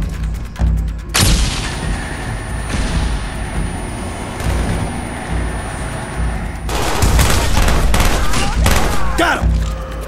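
A flashbang goes off amid bursts of gunfire in Call of Duty: Black Ops, loud booms and rapid shots with a ringing tone afterwards, while voices shout over the combat.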